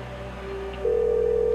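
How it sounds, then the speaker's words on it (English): A telephone on the line gives a steady electronic tone that jumps louder partway through and holds as a continuous hum, heard alone with no voices. "Come on, TC, answer the phone."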